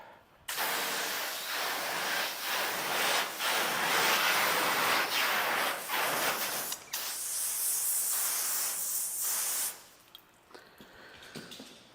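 Pressure spray rinses old coating off a car body panel, a loud steady hiss of water striking paint for about nine seconds, with a few drips and splashes trailing off at the end.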